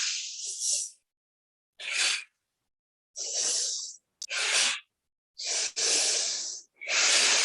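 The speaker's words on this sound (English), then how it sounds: "Really exaggerate. Yeah, you can hear your breath." Deep, exaggerated breathing during breathwork, with long hissing inhales and exhales heard up close and alone, about six breaths separated by brief silent gaps.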